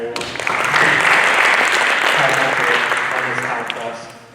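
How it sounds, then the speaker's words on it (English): A high school audience at a Final Pitch 2024 event claps for Aaron Bernardo, a past incubator student, as he comes out; loud, full applause swells quickly, holds, then tapers slightly, with faint voices and a tonal hum underneath. "Round of applause for Aaron, everyone."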